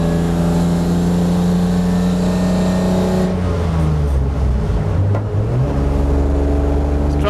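A garage-built BMW E36 race car engine drones loudly on track from the cockpit, holding steady then dropping and climbing through revs as the car shifts and accelerates, continuous and close.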